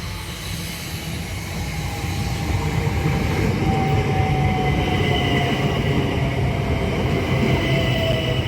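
A train idles at a station serving an abandoned coal mine, a steady loud rumble of engine and carriages with a faint high whine running through it, no voices heard.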